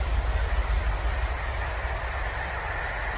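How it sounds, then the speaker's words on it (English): A steam train rumbles past at a steady distance, a continuous low heavy roar with broad hiss above it, holding level throughout without any talk. "I think that might be the steam train"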